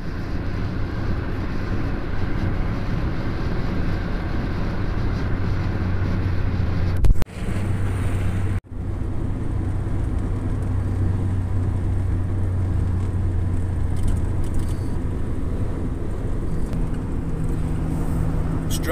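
A car drives across Woodhead Moor, a steady interior road rumble and engine drone held at an even level, broken by two brief sharp dropouts, with no talk.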